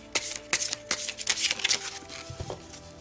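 Tarot cards shuffled and drawn by hand give several crisp riffling flicks and slaps in short bursts, close and clear, followed by a softer card being laid down at the end.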